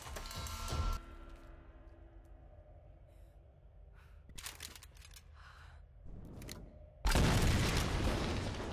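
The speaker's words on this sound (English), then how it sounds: "blow up another metal wall with a grenade" A grenade blowing up a metal wall in the Tomb Raider game, with a loud, sudden broadband blast near the end after quieter game ambience and a few short thuds.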